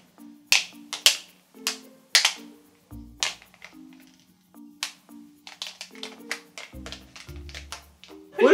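Sharp hand claps and slaps from two people trading a playful handshake routine, close and crisp, coming in irregular quick bursts with short pauses between them.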